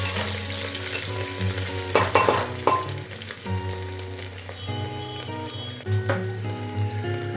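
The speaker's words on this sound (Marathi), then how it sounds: "ती कोथिंबीर घालून घ्यायची। छानपैकी ती तेलामध्ये" Coriander and chopped onion sautéing in hot oil for masale bhaat, a steady close sizzle with a few louder stirring scrapes, over faint background music.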